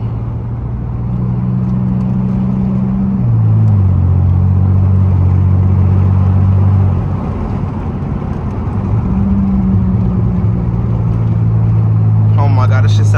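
A muffler-deleted Pontiac Grand Prix GT drives along with a deep, loud exhaust rumble that rises and falls as revs change, with burbling tones between shifts and a few sharp crackles near the end.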